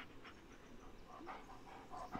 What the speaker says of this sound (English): Who's my little doggy?